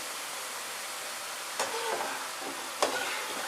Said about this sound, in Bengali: আর আমাদের খুব সুন্দর বোঁদেগুলো ফ্রাই হচ্ছে